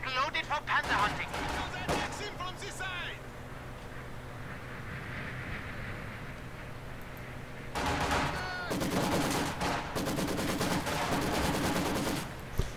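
Automatic gunfire crackles in a Company of Heroes 2 battle, with bursts near the start and a dense run of rapid shots in the final seconds, mixed with game noise and voices.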